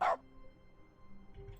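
One short, sharp dog bark in The Stanley Parable, close and clear, followed by quiet room tone and a faint low thump.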